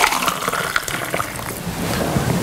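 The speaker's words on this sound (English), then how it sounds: "Oh, you can hear that ice. It's all nice and crispy in there." Icy ginger vodka slushy cocktail being poured, a steady wet splashing and crackling of crushed ice sliding into a glass, close and continuous, with no talking.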